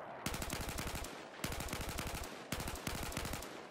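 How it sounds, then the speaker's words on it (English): An M4/M16A4 rifle in Battlefield 4 fires three separate bursts, each a rapid run of loud, close shots with short pauses between them, and no talk. "So the thing that you do is just shoot 3 bursts."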